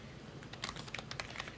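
Rapid keystrokes on a computer keyboard clatter in an uneven burst of light clicks, close and fairly quiet, with no voices over them.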